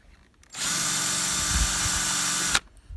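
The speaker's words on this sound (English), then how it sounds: "the drill bit can't go through plastic" A power drill whirs steadily for about two seconds, starting and stopping abruptly, with a dull grinding as the bit presses against plastic without going through.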